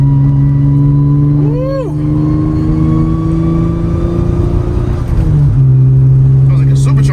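Acura TL Type-S fitted with straight cut gears and an aggressive clutch pulls hard through third gear, a loud steady engine drone rising in pitch with a whining gear note, then a brief dip at the shift; a voice cheers once.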